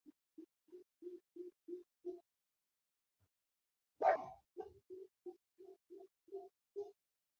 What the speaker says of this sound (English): Don't know if you can hear that deep woof woof woof over the distance there.